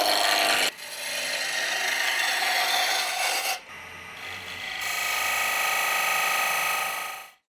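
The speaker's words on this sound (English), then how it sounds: "Back onto the roughing gouge to the ash." A roughing gouge cuts a spinning ash blank on a wood lathe, giving a close, continuous rasping hiss that breaks off briefly, resumes in a second long pass and then stops abruptly.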